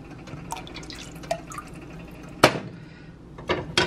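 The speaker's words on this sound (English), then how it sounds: "I'm going to add my coconut liquid aminos." Coconut liquid aminos poured into a pot of homemade ramen soup with quail, sounding as a few close drips and splashes over a quiet background, no talk.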